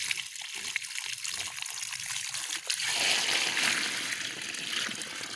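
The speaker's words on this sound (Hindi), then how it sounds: "आप खूब सारा पानी डालें इसमें" Plenty of water is poured into the planting pit around a newly planted Sita Ashoka tree; a quiet opening gives way midway to a steady, close rushing splash that continues to the end.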